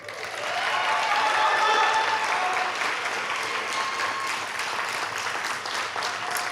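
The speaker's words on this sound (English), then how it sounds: "Please give a round of applause to Absar Norwin." Audience applause at a high school graduation ceremony rises quickly into dense, sustained clapping from a large crowd, holding strong for several seconds before easing slightly.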